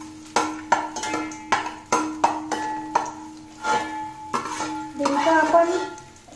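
Edible gum (dink) frying in a pan for methi ladoo, with a run of sharp metallic clinks and scrapes from a spoon against the pan and a soft sizzle that swells toward the end.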